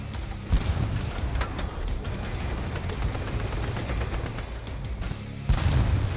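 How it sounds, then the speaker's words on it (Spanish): Tank gunfire and explosions in the World War II video game Battle Tanks: Legends of World War II, with heavy booming shots near the start and end over a continuous rumbling battle din. "We are under fire."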